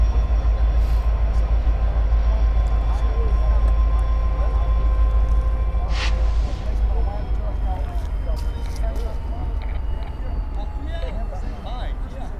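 An Amtrak train carrying a wrapped coach car rumbles past far below Coffey's Cliff, a steady low roar with faint squeals from the rails, heard from high above. A voice briefly speaks over it.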